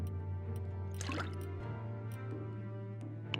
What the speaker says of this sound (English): And I get a bucket of clear water.